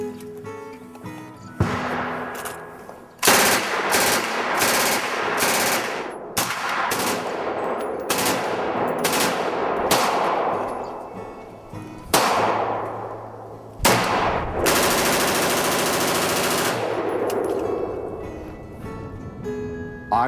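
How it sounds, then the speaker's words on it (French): Recreational firearms fire at a shooting range in the United States, with sharp, loud, echoing shots, some single and some in rapid strings, ringing out across roughly twenty seconds. "Même si les armes font beaucoup de bruit"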